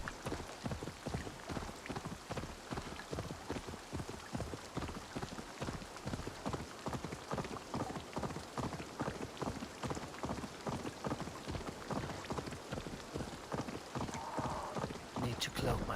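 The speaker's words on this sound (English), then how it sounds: "Will it rain forever?" Steady rain falls in Assassin's Creed Valhalla, a constant patter on surfaces with rhythmic clip-clop of hooves running through it, moderately quiet and continuous.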